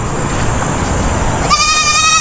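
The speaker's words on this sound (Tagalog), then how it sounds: "Maraming kambing oh. Dami palang kambing niya dito." Goats on a farm bleat, a loud, close, wavering harmonic call rising over background noise near the end of the stretch, with no talking.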